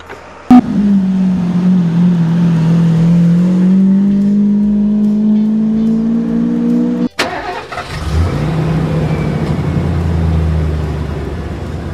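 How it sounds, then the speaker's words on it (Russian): A cartoon convertible car engine starts with a sharp thump, then drones and climbs steadily in pitch before cutting off, followed by a lower rumbling run, loud and up front. "Это кабриолет!"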